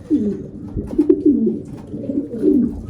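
Colored homing pigeons coo in a loft, with close, repeated throaty rolling calls that overlap in a steady rhythm.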